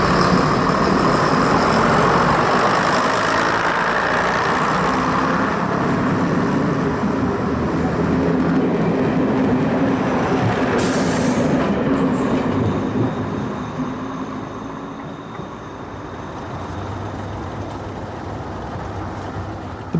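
A two-car Metro-Cammell diesel railcar unit on a branch line, a loud steady rumble of engine and wheels with rhythmic clatter, easing off somewhat toward the end.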